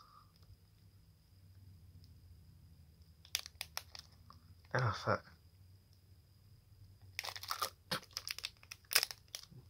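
Close crinkly tearing and crunching of a Yu-Gi-Oh card pack's plastic wrapper bitten open with teeth in short bursts, with a brief muttered voice in between.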